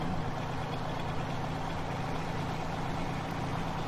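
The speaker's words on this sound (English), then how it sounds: "when it starts up, sounds like a normal truck starting up" Truck engine in the Farming Simulator 17 video game, running with a steady low rumbling drone and no pauses for the whole stretch.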